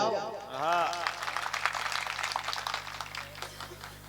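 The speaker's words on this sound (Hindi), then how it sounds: "ताली बजाओ।" An audience claps steadily at a Hindi poetry gathering held at an open market hall, a dense run of applause lasting several seconds after a man's brief spoken line at the start.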